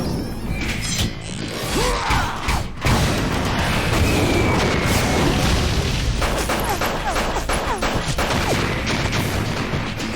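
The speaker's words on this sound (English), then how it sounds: "Explosive rounds or what?" Dense volleys of explosive rounds in Metal Gear Solid 2: Sons of Liberty, loud rapid blasts and crashing impacts hammering almost continuously, with one sharp burst standing out near the start, then a sustained barrage.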